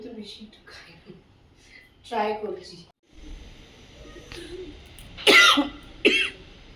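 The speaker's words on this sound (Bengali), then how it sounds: "হয়তো ঠান্ডা লেগে গেছে প্রচণ্ড কাশি হয়ে গেছে" Coughing and throat clearing from someone with a cold come in a few separate bursts, close and fairly loud, with quiet speech in between.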